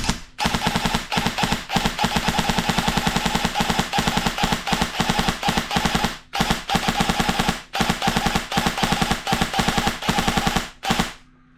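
An airsoft gun fires at a very high rate in long, rapid bursts, a dense close rattle of shots broken by brief pauses.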